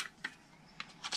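Scissors cutting out paper wings for a papercraft gift box, a few short crisp snips spaced apart, close and fairly quiet.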